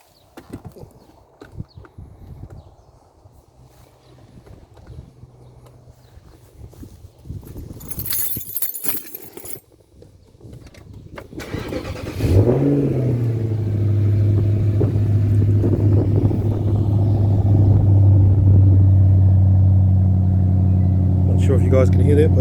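A 2009 Nissan Fuga 450GT V8 engine cranks and fires up, then settles into a steady, loud, close idle that holds for about ten seconds; earlier handling noises and clicks precede the start.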